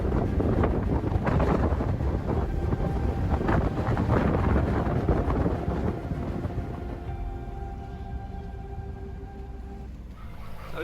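A strong wind gust roars across a sailing boat leaving an anchorage, loud buffeting wind noise on the microphone that gradually eases toward the end.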